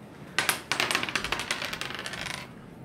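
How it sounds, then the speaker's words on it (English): Dice rolled across a table ahead of a Connect 4 match, giving a quick run of sharp clattering taps that bounce and tumble for about two seconds before settling, close and clear with no talk. "we're both rolling a dice to see who goes first"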